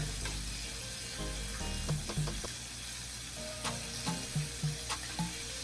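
Four pieces of Southern fried chicken crackle in hot oil with a steady, moderate sizzle, punctuated by a few soft clanks and taps.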